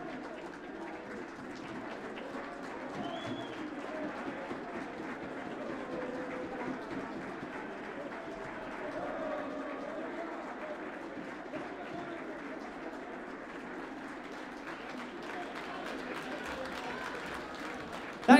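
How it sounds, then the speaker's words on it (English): Sustained audience applause at a Steel City Darts evening, a tribute to the late darts legend Jim Bowen; a broad, even wash of many hands clapping in a large hall, steady throughout without pauses. "we'll be doing a moment of applause for darts legend Jim Bowen"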